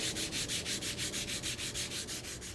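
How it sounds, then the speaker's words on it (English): Hand sanding of a 2017 Toyota Prius tow hook cover with 800 grit sandpaper: steady rhythmic back-and-forth rasping strokes, about six per second, close and continuous with no voices. "I'm going to go ahead and use the 800 grit sandpaper and sand it down."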